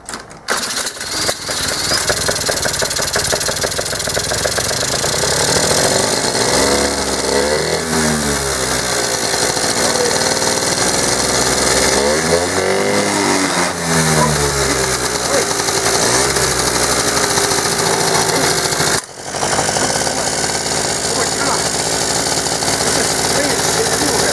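A 49cc Yamaha Riva scooter with a flooded crankcase sputters and revs loudly up close, its buzzing engine rising and falling in pitch with a brief drop-out near the end.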